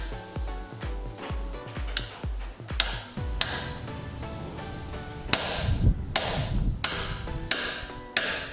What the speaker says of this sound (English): now we're going to hammer it in.